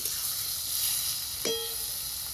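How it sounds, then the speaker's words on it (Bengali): Steady, hissing sizzle of onions frying in oil left from frying potatoes, with a brief metallic clink of a utensil partway through. "আলু তুলে ওই তেলে পেঁয়াজও দিচ্ছি"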